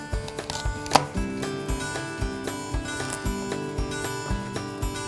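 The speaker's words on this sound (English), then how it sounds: "So I'm gonna chop up the carrots first." A knife chops carrots on a cutting board in a steady series of firm, evenly spaced knocks, heard close up under continuous background music.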